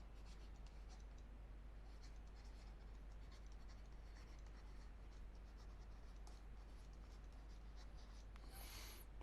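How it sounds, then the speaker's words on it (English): A pen writes a maths solution on paper, producing faint, continuous scratching strokes with short pauses, quiet and close over a steady low hum, with a brief louder rustle near the end. "I am writing over here, area under the curve."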